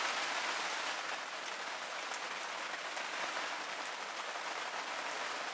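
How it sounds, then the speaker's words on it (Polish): A heavy rainstorm passes over a night fishing spot, rain pouring down steadily as a dense, even hiss of drops drumming on surfaces, continuous and fairly close. "A tu nawałnica przechodzi przez naszą miejscówkę."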